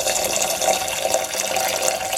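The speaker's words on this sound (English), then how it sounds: "Then you wash it with filter water." Rice being washed with filtered water, a continuous close rushing and splashing of running water with no pauses and no voices.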